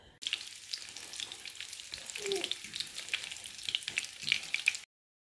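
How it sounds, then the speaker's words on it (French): Small meatballs fry in hot oil with a steady, soft crackling sizzle and scattered sharper pops, heard alone at close range before ending abruptly. "j'ai mis l'huile à chauffer pour faire cuire des petites boulettes"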